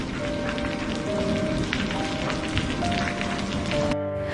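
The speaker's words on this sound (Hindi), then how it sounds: "वैसे भी बहुत तेज बारिश हो रही है।" Heavy rain pours down in a steady, dense hiss, loud and close throughout, with no voices; the roar thins abruptly just before the end.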